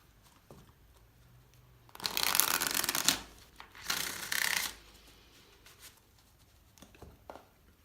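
Tarot cards are shuffled in two short bursts of riffling and sliding, close and fairly loud, separated by a brief pause in an otherwise quiet room.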